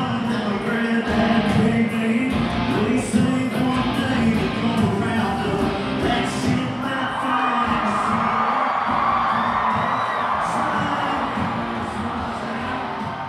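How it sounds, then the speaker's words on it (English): A large outdoor concert crowd at a country music show in Iowa sings along and cheers, a dense roar of many voices with whoops and shouts, loud and sustained throughout. "The crowd sang along."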